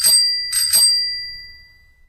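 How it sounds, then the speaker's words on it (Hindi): A bicycle bell rings outside at night, two bright metallic dings in quick succession whose ringing tone decays slowly into quiet, heard alone with no voices. "तभी बाहर से साइकिल की घंटी सुनाई दी।"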